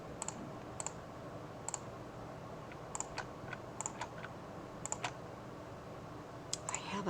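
Mouse clicks from selecting hair colour with an eyedropper tool, a series of sharp, quiet, well-spaced clicks in an irregular rhythm over a steady background hiss.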